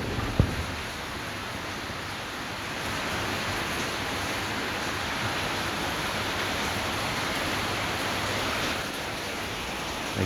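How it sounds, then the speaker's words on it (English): Heavy rain pours down in Vietnam as a dense, steady hiss that holds evenly throughout, loud and close with no talk. "I can't really see the raindrops, but from the sound, oh yeah, I can see that. It's pouring heavy."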